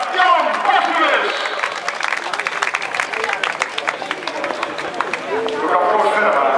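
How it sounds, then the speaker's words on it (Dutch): An audience at a Valkema Parkstadloop 2010 race prize ceremony applauds the podium finishers, with steady clapping running throughout while an announcer talks over it. "We gaan, dames en heren, nogmaals een applaus geven voor dit hele podium"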